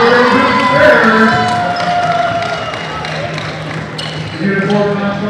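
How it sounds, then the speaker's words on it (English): A gym crowd at a high school basketball game between Barrow and JDHS cheers and claps for the Bears. The noise is loud and sustained, with voices shouting over the clapping. "the round of applause for the Bears"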